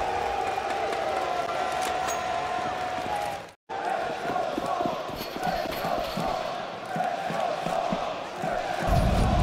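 An arena crowd roars at a CS2 esports quarter-final at IEM Cologne 2024, a loud sustained cheer that briefly cuts out, then swells again with rhythmic chanting and thumping.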